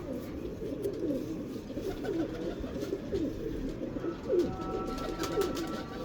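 Domestic pigeons, a female paired with a male, coo in soft repeated rolling phrases nearby, with a low murmur underneath and no talk.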